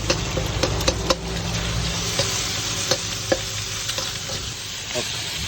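Pad thai with fresh shrimp, noodles and egg sizzles steadily in a hot wok, with frequent metallic clinks and scrapes of a spatula stirring and tossing, close up.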